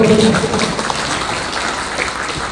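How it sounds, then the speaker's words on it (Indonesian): A crowd claps in a brief burst of applause that gradually tapers off, with a faint voice at the start, at a religious gathering marking a construction project's topping off. "Tepuk tangan untuk Kang Pur."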